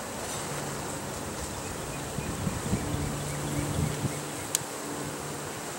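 Honey bees buzzing around an opened hive in spring, a steady low drone of many wings close by with a few louder passes near the mic, set against faint outdoor air; no speech.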